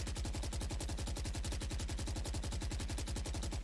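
Sustained automatic gunfire in a video game as the fire button is held down, a fast, steady stream of loud, evenly spaced shots spraying bullets continuously with no pauses.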